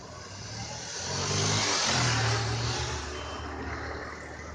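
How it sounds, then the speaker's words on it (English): Small scooter engines start and rev up nearby, buzzing louder and then easing off as the scooters pull away amid steady street noise. "One by one, children come, pick up their scooters and drive off."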